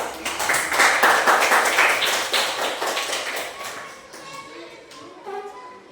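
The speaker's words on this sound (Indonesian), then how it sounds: "tepuk tangan untuk kelompok 2." Students in a classroom clap for a group after its presentation; the clapping is brisk and fairly close for about three seconds, then tapers off into a few scattered claps under faint children's voices.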